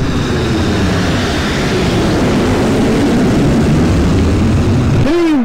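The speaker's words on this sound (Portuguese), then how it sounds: "Olha o avião da Webjet informando o tempo." A loud, steady propeller-like aircraft drone fills the whole stretch as a Webjet airplane flies over a stadium in the video game Pro Evolution Soccer 6, ending with a short rising whoosh.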